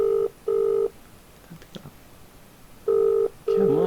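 A telephone rings on an outgoing call, giving two loud bursts of steady ringback tone, then a pause with faint background sounds before two more bursts. Voices talk softly underneath.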